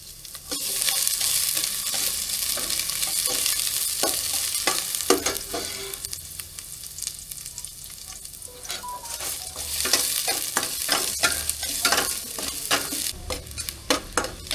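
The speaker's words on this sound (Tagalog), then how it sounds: "Tapos gigisa na po natin lahat na. Sama-sama na yan." Ingredients sautéing together in a hot pan, a steady close sizzle with scattered clinks and scrapes of stirring.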